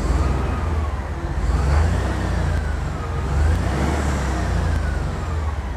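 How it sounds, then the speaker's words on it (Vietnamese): A steady, smooth truck engine idle rumbles low and continuous, with faint passing traffic in the background; no voices. "Mẹ thấy tiếng máy nổ êm."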